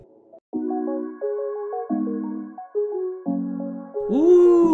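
Another reggaeton melody loop from the Dreams sample pack plays on its own: clean bell-like synth notes hop up and down in a steady pattern and end with a gliding, bending chord.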